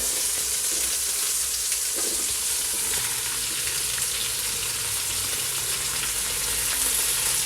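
Tomatoes frying in ghee in a pan for tomato rice, a steady loud hissing sizzle close by with faint scraping as the mixture is stirred.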